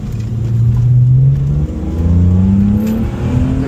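A BMW E46 M3 engine accelerating through the gears: a loud, close, rising howl that climbs, dips briefly at a shift, then climbs again, with no talking.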